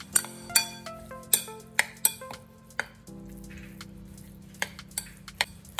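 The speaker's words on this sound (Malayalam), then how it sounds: "ഇത് നല്ലോണം മസാലയിൽ കോട്ടാവുന്ന വരെ ഇളക്കി കൊടുക്കാം." Raw prawns stirred and tossed to coat them in masala for a homemade prawn pickle, with close, irregular metallic clinks and knocks of a utensil against the vessel over soft shuffling, no talk.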